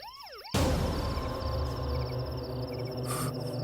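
A police van siren wails loudly and close, starting abruptly and holding a steady, continuous electronic tone in a street scene from a Hindi-dubbed action film, with faint insect chirps in the background.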